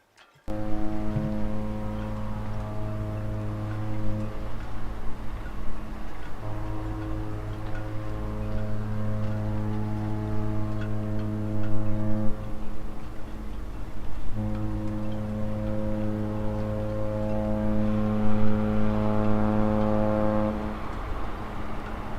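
The deep horn of the cruise ship Mein Schiff 3 departing Southampton sounds in three long, loud blasts separated by short gaps, with faint harbour background between them.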